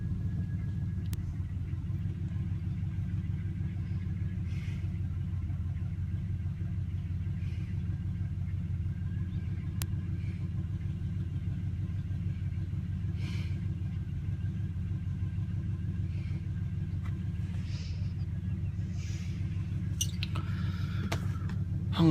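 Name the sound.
old Oldsmobile car engine idling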